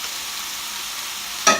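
Saltfish frying in a pan for buljol, a steady soft sizzle and crackle that ends in a louder stirring scrape as the fish is tossed around.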